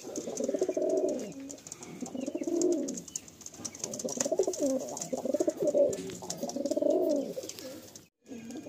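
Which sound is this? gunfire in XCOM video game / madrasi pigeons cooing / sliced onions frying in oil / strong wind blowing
madrasi pigeons cooing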